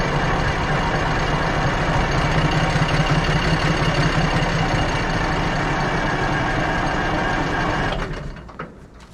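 A small engine runs steadily with its throttle wedged open by a piece of wood, a loud, even, rumbling drone that holds for about eight seconds before dropping away with a few sputters.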